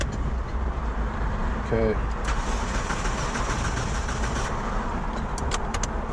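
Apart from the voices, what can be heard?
old Mitsubishi Lancer engine cranking during key test, no start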